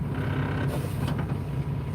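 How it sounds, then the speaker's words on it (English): A cup holder inside a truck rattles and creaks over the cab's low engine hum, with a brief cluster of clicking vibration in the middle; no talk. "Something in here is vibrating on this cup holder right here."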